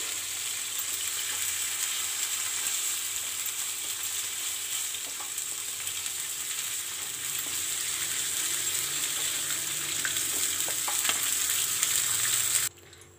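Paneer frying in oil in a pan for paneer masala, a steady close hissing sizzle that runs unbroken for the whole stretch, with a few faint clicks and stirring touches, cut off abruptly at the end.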